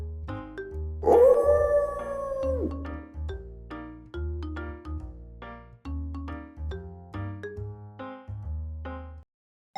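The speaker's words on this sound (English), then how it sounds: "Wolf." A wolf's long rising and falling howl rings out over a bouncy musical backing track, with the howl standing out strongly in the first few seconds before the music continues alone.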